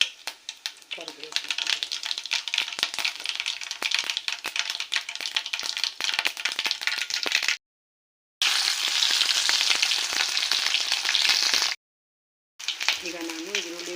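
Mustard seeds, cumin and curry leaves crackle and spit in hot oil, a dense close sputtering that stops abruptly twice for brief silent gaps.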